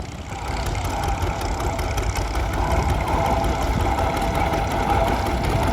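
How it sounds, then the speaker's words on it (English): An unstyled John Deere G tractor pulls a 16-inch No. 8 Little Genius plow with KA bottoms at a plowing contest. The engine runs steadily with a low, even chug throughout, moderately close. "Joel McQueen's outfit, an unstyled G John Deere pulling a 16-inch number 8 Little Genius plow equipped with KA bottoms"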